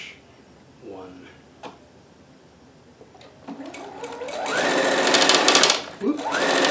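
Sewing machine running a decorative cross stitch on a shirt, its motor whirring steadily and growing louder over the last few seconds, with brief pauses and shifts in pitch as the stitch pattern changes.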